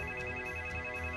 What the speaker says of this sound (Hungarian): Kicseng.